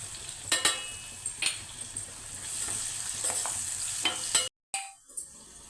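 Food fries in a pan with a continuous sizzle as turmeric is stirred in, with several scraping and clacking strokes from a spoon before a brief cutout near the end.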